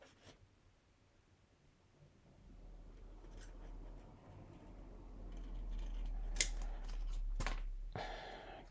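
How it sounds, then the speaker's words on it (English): Scissors snip and trim around a stamped paper image, a run of soft close cuts and paper rustles with a quiet low hum underneath. "You'll have to watch me trim here."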